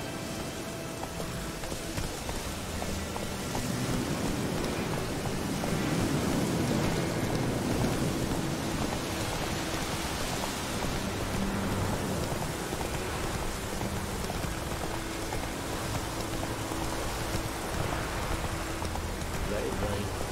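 Steady rain pours across the fields in The Witcher 3, a dense, even hiss that stays constant for the whole stretch, with faint low voices murmuring beneath it.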